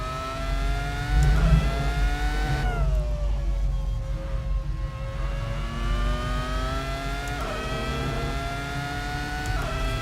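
Ferrari F2002 Formula One car engine in the Assetto Corsa racing game, a loud, sustained high-pitched scream that climbs and falls as the revs change through gear shifts, continuous and close with no talk.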